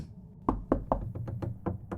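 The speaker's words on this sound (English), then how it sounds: "I knock on the wall" Knocking on a wall inside the video game Records of the Unknown: about eight sharp knocks in an uneven series, each short and distinct, coming through clearly with no talking over them.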